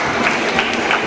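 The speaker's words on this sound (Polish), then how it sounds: "Wielkie brawa" An auction audience breaks into applause after a lot is sold. The clapping is a moderate, evenly spread patter from many hands that carries on steadily without a clear peak.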